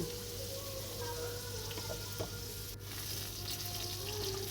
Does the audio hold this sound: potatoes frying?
yes